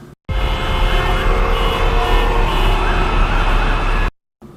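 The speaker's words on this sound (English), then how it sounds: "when you're a city that literally sounds like this" New York City street noise, a dense, loud, constant roar of traffic with a siren-like emergency vehicle tone running under it, steady for about four seconds before cutting off abruptly.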